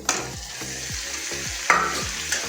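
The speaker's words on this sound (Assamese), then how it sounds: "তো মই ইয়াতে মাংসটো এতিয়া মই ঢালি আছোঁ।" Chicken pieces drop into hot, spiced masala in a pan, sizzling loudly while a spoon scrapes and stirs in a quick repeating rhythm, close and clear with no talking.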